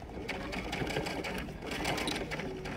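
A sewing machine stitches fabric for an elephant stuffed animal, a rapid, even mechanical whirr and needle chatter heard up close and running continuously without pause.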